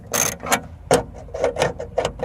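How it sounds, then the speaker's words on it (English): Ratchet turning the window motor bolts inside the door of a G35 Coupe, heard as several short, sharp clicking bursts at close range, with brief pauses between them and no talking. "So now I'm going to go ahead and take all the bolts for the window motor actually off."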